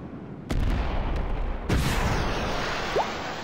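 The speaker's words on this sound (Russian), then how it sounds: "Так, вторая пошла ракета." Rocket launches from a HIMARS launcher in Garry's Mod, two sharp booming blasts about a second apart, each trailing into a rushing roar, loud and close with no talk over them.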